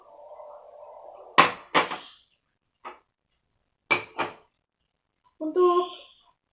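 Glass cups, bowls and plates are handled at home, giving several separate sharp clinks and knocks spaced over a few seconds against near silence, with a short ringing tone at the end. Brief speech opens the clip.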